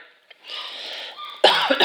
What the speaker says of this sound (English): I have this terrible cough